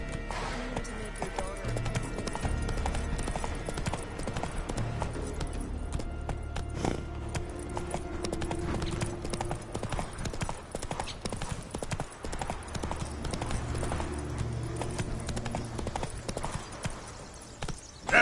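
Roach, a horse in The Witcher 3 video game, trots steadily with a continuous rhythmic clip-clop of hooves under a low game ambience, with a rider's voice speaking to the horse over it.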